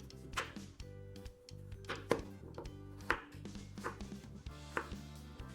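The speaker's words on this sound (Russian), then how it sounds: "Дальше нарезаем тыкву на небольшие кусочки." A knife chops pumpkin into small pieces on a board, with quick, irregular taps close by and fairly quiet, and no voices.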